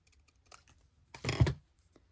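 Scissors cutting out a paper piece for a journal: a few faint snips, then one louder, longer cut through the paper, close by and quiet.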